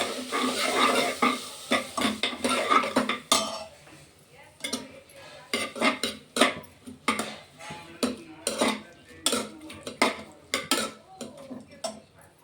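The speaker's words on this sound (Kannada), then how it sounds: "ಈರುಳ್ಳಿ ಟೊಮೆಟೊ ಇವಾಗ ಬೇಯ್ತಾ ಇದೆ." Onion and tomato frying in a pan for biryani, a soft sizzle beneath repeated scraping and clinking of a spoon stirring against the pan, in uneven bursts, with someone speaking over the early part.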